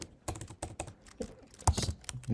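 Keys clatter on a computer keyboard during coding, irregular bursts of close, crisp taps with short pauses between them and no talk.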